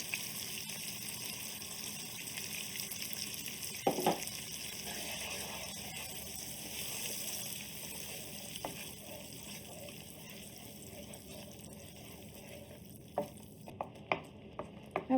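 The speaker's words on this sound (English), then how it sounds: "I'm going to mix this and allow the tomato mixture to cook until it thickens" A tomato puree and tamarind paste mixture for tomato thokku cooks in a pan over medium heat, with a soft sizzle and a few brief scraping stirs, quiet and close.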